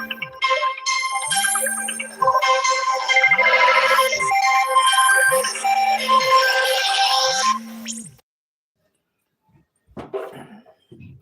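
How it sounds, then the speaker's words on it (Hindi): A melodic phone ringtone plays loudly for about eight seconds over a repeating low tone pattern for an incoming call at home, then stops, followed by brief faint sounds after a pause. "मम्मी मौसी का फोन आया है।"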